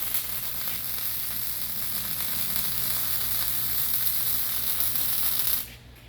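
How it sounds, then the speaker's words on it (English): Steady crackling hiss of arc welding on a steel deck rail, running evenly and loud for several seconds before cutting off abruptly near the end. "So I'll take it and I'll weld my side."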